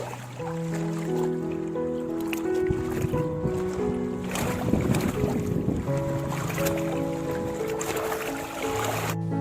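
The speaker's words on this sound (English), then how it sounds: "What a sweetness to this sound that the waves of the water create on the shore of the dam." Water from a dam reservoir laps steadily against the shore at sunrise, a continuous close wash of gentle waves with breezy wind noise over it, no voices.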